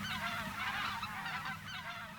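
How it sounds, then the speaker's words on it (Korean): A flock of geese at Cheonsu Bay honks continuously, many overlapping calls rising and falling together at moderate distance, with no talk. "새들의 울음소리 또한 예사롭지 않다."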